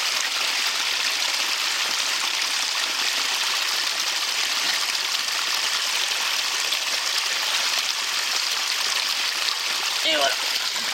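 Running water pours steadily into a Sawyer Mini filter bag, a continuous close hiss and trickle like a tap that holds level throughout, with a brief gurgle near the end.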